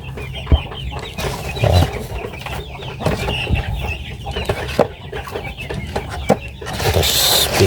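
Backyard chickens cluck close by in steady, overlapping bursts around an outdoor spot where they lay eggs, with a few sharper squawks and rustling between calls.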